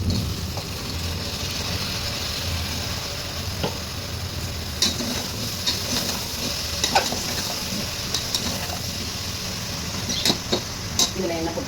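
Sprouted legumes and soaked soya chunks are stirred around a pan, giving a steady soft sizzle with scattered scraping clicks of the spoon, close and moderately loud throughout.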